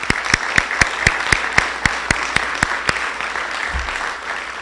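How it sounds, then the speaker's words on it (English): An audience in a town meeting applauds the town manager, a steady crowd of clapping with several sharp, louder claps cutting through at a regular pace, filling the room for several seconds. "How about a round of applause for the manager?"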